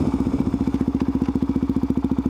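A supermoto motorcycle thumps along a dirt gravel road, its single-cylinder engine pulsing in a fast, even beat, close and loud with faint clatter from the surface.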